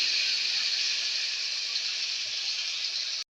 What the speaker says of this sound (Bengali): মাছগুলো আমি ছেড়ে দিচ্ছি গরম তেলে। তেল গরম হয়ে গেছে